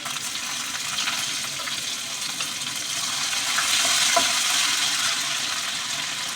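Ginger frying in a pan with curry leaf powder and garlic gives a steady, loud sizzle that swells slightly midway, with no voices over it.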